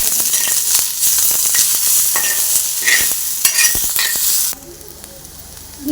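Chillies frying in oil in a pan, a loud close crackling sizzle broken by the scrape and clatter of stirring, dropping to a quieter hiss near the end.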